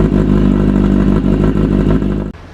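A motorbike with a loud aftermarket exhaust revs hard near the listener, a thick rumbling roar with rapid pulsing that holds steady for about two seconds before cutting off abruptly.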